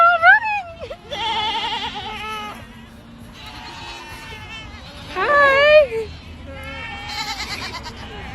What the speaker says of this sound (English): I just made a goat noise and all these goats came.